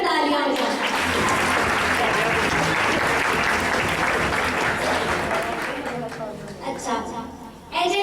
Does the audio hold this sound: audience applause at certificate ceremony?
yes